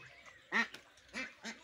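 Pekin ducks on a farm quacking close by, three or four loud, nasal quacks in an irregular series with short pauses between them.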